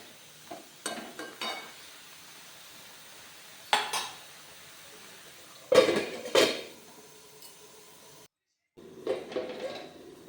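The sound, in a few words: pot lid lifted off a cooking pot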